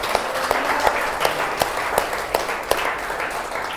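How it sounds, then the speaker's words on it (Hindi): A church congregation at a Christian worship service claps loudly with hands raised, a dense, steady wash of applause punctuated by sharp individual claps throughout. "अपने दोनों हाथ ऊपर कीजिए और जोर से ताली बजाए यीशु मसीह के लिए।"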